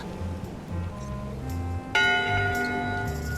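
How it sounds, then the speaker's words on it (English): A ship's bell in the pirate adventure game Return to Monkey Island rings out in clear metallic strikes, the loudest one near the end, over a low musical background. "Voting is supposed to be at 1 bell."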